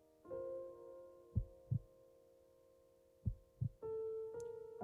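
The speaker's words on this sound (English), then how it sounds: "A heartbeat in the background." Slow paired heartbeat thumps pulse twice in the video game To The Moon, set under a soft sustained hum and quiet tonal notes.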